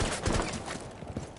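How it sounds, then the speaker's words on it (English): Gunfire in the video game Rainbow Six Siege, a quick rattling fusillade of shots that blur together, fairly faint and muffled, lasting just over a second. "Damn, spooky. Spooky gunfire."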